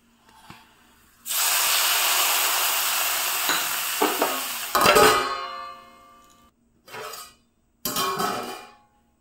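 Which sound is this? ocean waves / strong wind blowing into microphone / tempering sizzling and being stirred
tempering sizzling and being stirred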